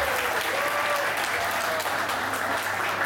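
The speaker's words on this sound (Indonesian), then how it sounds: "Tepuk tangan dong, Bu." A crowd at a political party's cultural wing inauguration ceremony claps steadily and fairly loudly, a continuous wash of applause throughout with no gaps.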